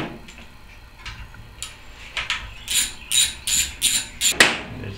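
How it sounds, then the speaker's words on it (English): Ratchet wrench backing out the two quarter-inch coil bolts on an overhead valve engine during teardown, a series of quick, close clicking bursts that grow louder and more rhythmic toward the end, with no talking. "Next, we're going to be removing the coil with these 2 quarter-inch bolts."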